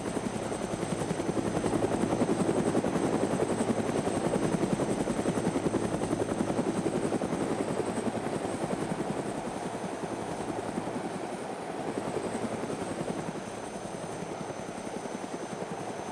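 A helicopter from the DayZ Namalsk video game drones steadily throughout, its rotor chop a constant close, fairly loud whir with no talk over it.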